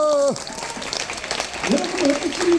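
Crowd applause and cheering at a traditional Korean wedding ceremony at the Lotte folk museum in Jamsil, a sustained burst following a brief shout, with a voice calling out over the clapping.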